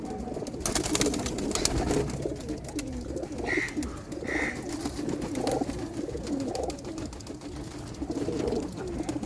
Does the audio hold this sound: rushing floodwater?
no